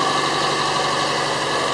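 A 2007 Subaru Impreza 2.5 engine idling after a head gasket repair, a steady, even mechanical hum with a faint exhaust note, close and constant, with no voices.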